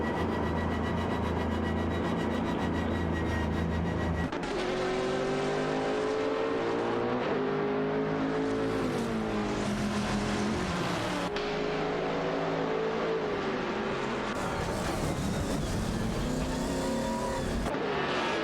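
Ferrari 575 GTC race cars in a video game race roar loudly, engines revving and shifting through gears in a continuous, dense stream of motor noise.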